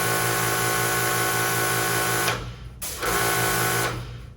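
Comet Static 1700 pressure washer running steadily on an aluminum carport, a loud continuous motor whine with rattling, briefly dropping twice as it pauses then resumes.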